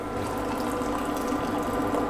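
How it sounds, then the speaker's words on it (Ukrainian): Water poured into a winter cocktail, a steady continuous splashing pour that stays close and fairly loud for the whole stretch, with no talking over it. "Додаємо води."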